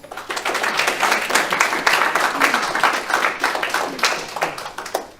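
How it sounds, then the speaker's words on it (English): Audience at a city council meeting giving a round of applause, close, distinct hand claps rising and falling in a lively, uneven patter. "everyone deserves a big round of applause there"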